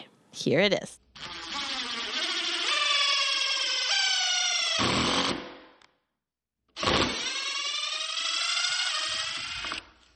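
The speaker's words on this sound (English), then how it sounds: "That sound was me screwing a screw in and out with a drill." A power drill drives a screw in and then back out, making two long whirring bursts whose pitch climbs as the motor spins up, with a short spoken phrase just before.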